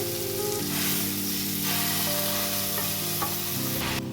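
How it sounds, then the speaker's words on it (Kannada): A bunch of washed drumstick (moringa) leaves frying with salt in a pan, giving a steady sizzling hiss with occasional stirring scrapes and a faint tonal hum in the background. "ನುಗ್ಗೆ ಸೊಪ್ಪು ಹಾಕಿದ್ದೀನಿ. ಚೆನ್ನಾಗಿ ಫ್ರೈ ಮಾಡ್ತಾ ಇದ್ದೀನಿ."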